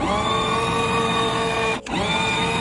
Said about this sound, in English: Let's see if it'll actually spin this new motor.